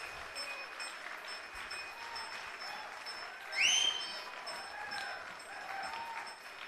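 Audience applause welcomes the dancers of the Ayyana dance institute at a live concert during the Bengaluru Ganesh Utsava; dense, steady clapping from a large crowd carries throughout, with a brief whistle rising out of it midway.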